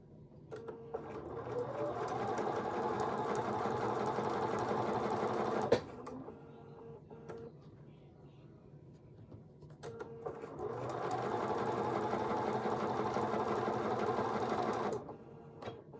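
Sewing machine chain stitching rows of a mini appliqué wallhanging quilt, running steadily and close in two long bursts separated by a pause with light handling noise.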